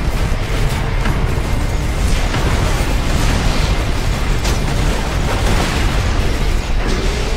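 Rocket weapon explosions in Borderlands 2 boom in a dense, continuous barrage, loud and close, with no clear gaps between blasts over a rumbling game backdrop.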